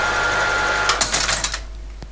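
ASR33 Teletype machine running with a dense mechanical whir and clatter, then winding down into a few scattered clicks as it is switched off, close and fairly loud.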